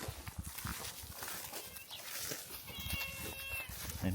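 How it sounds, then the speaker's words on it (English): A cat meows in short, faint cries amid a noisy outdoor background with rustling and shuffling. "you can hear Mr. Cat as well"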